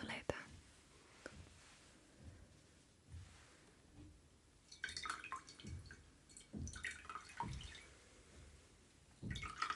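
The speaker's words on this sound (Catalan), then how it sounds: "Tornarem a mullar una mica la tovalloleta." A small towel is dampened again with water during a close, whispered hair-trim role play: faint drips and soft trickling, with light wet squishing in the second half, under breathy whispering at very low level.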